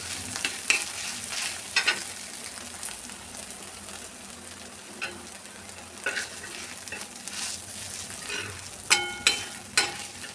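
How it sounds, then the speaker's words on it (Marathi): Fenugreek curry with crushed peanut powder bubbles and sizzles in a pan, a soft steady fry under repeated sharp scrapes and clinks of a spoon stirring against the metal. "बघा भाजी उकळते आपली"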